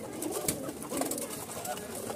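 High-flying pigeons coo in a loft. The low cooing is moderately close and runs steadily under a busy noise bed, with sharp clicks and scuffles that suggest the birds are fighting.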